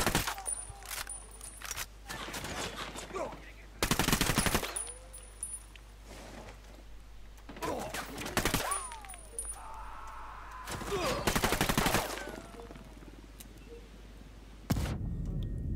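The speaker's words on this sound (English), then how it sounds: "I'm shooting these fuckers." Gunfire in the Ghost Recon Wildlands shooter, several loud sharp bursts of rifle fire with pauses between them, mixed with lighter clinks and ambient game sounds.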